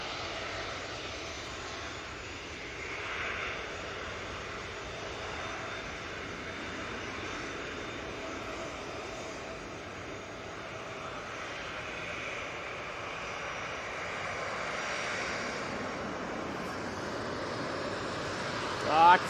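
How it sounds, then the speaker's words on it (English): A Boeing 737-800 jet departs Manchester Airport for Belfast, a faint, distant, sustained engine rumble and hiss that rises and falls gently, ending with a brief louder noise near the end. "This one's off to Belfast, it's 737-800"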